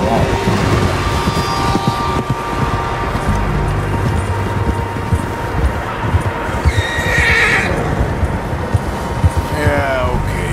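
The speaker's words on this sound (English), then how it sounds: "Horses, quite a few of them." Horses in Red Dead Redemption 2 whinny and neigh loudly while hooves clip-clop beneath, with game ambience and a rising whinny near the end; several horses sound close.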